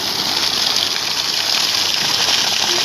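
Water gushing steadily at full flow from a 2-inch pipe fed by a DC motor pump drawing from a deep well in Pollachi, a loud continuous broadband rush without pause.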